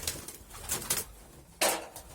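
Pet pigeons coo close by in low, rolling calls, with a louder burst of rustling or wing movement near the end and no voices.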